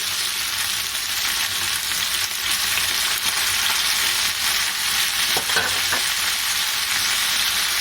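Onions and spices fry with chicken in a pan, producing a steady, loud, close sizzle with occasional soft stirring movements and no talking.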